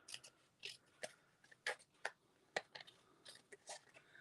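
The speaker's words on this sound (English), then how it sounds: "I'm going to just take my scissors and I'm going to cut that right off." Scissors snip repeatedly in crisp, quiet cuts, a dozen or so sharp clicks spaced irregularly, close by with no talking.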